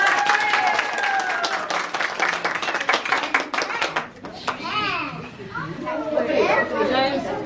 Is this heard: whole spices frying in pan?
no